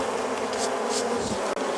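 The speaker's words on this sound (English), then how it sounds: "And I am brushing the bees off of each frame one by one." A steady, close swarm of honeybees drones continuously as they are brushed one by one off honey super frames while the supers are pulled from a hive.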